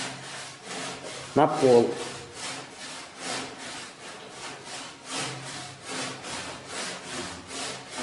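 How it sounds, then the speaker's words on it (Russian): A hand saw with wide teeth cuts through tongue-and-groove gypsum blocks in a steady, rasping rhythm of strokes that runs throughout, close and moderately loud, with a short spoken phrase near the start. "Пилится ручной ножовкой с широкими зубьями."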